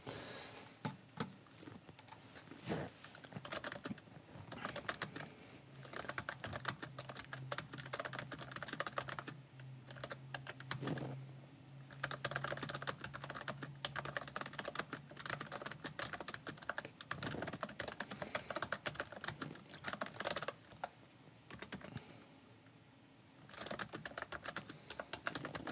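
Fast, steady typing on a computer keyboard during a live wind and smoke plume update, dense close key clatter running throughout with brief pauses and no talk.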